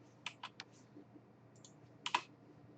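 Typing on a computer keyboard while coding, a few quick close key clicks in short bursts separated by a quiet pause, soft and crisp, with no talking.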